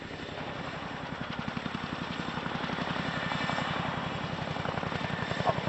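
Chinook helicopter at the RAF Cosford air show, a steady loud rotor thump in rapid even pulses over a constant engine drone that swells slightly toward the end.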